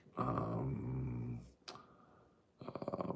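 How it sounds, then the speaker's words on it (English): A sick dog growls in low, sustained rumbles close by, with a short break and then a rougher, pulsing stretch of growling. "that's my dog who's sick."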